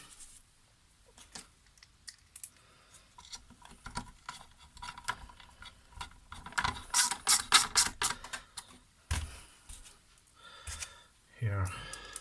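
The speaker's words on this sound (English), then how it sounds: "Let's put back the screws." Screws being driven back into a Nespresso Citiz coffee machine, with close ratcheting clicks and small metallic handling noises, brief bursts under occasional soft breaths.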